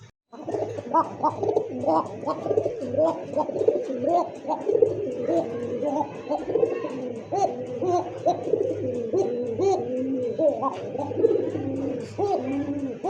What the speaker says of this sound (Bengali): কবুতর ডাক ভালো লাগে ভাই, কারণ আনকমন একটা ডাক